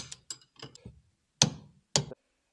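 A ratchet tightening a bolt on a motorcycle rear shock gives a few short bursts of clicking, the last two louder and sharper, close by with quiet gaps between and no speech.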